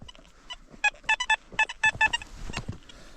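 A metal detector gives a series of short, sharp electronic beeps in quick clusters, about eight pips, over faint outdoor rustling at the site of an old cottage, signalling a buried coin.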